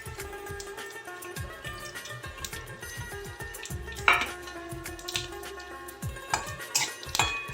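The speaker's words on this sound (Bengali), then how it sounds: "পাঁচফোড়ন তেজপাতা ভেজে নিয়েছি" Panch phoron and bay leaves frying in hot mustard oil in a pan, with a soft sizzle under repeated clinks and scrapes of a metal spoon stirring against the pan, close by and uneven.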